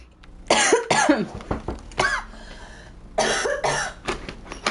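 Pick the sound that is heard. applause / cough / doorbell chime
cough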